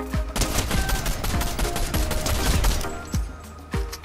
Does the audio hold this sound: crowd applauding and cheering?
no